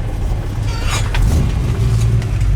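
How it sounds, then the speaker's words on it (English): A 1966 Ford Mustang coupe idles at about 700 RPM, a steady, loud, close low rumble with no change in pitch. "As far as our idle goes, it's idling about 700 RPM,"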